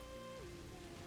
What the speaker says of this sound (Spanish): Está pegando fuerte la lluvia.